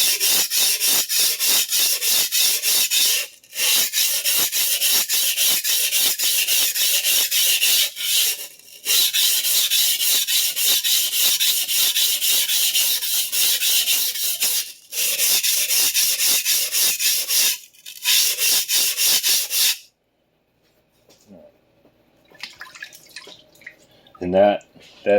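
A vintage Clyde Cutlery chef knife is ground on a sharpening stone, with steady rhythmic rasping strokes, loud and close, that stop for brief pauses, then quiet scraping and handling sounds at the end.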